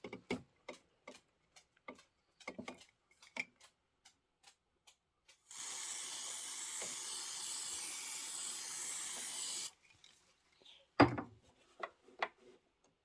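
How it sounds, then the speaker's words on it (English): A spray can hisses onto quilt fabric in one steady burst lasting about four seconds, set among scattered light taps and clicks before and after. "Okay, I'm going to give it a little shot of spray."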